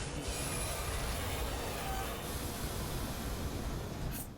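A train rumbles past in an Armored Core 2 cutscene, with steady wheel noise and metallic squealing that hold loud and continuous throughout before easing slightly at the end.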